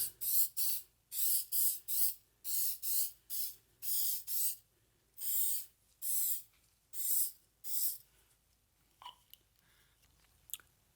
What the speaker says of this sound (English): Let's give these a little spray,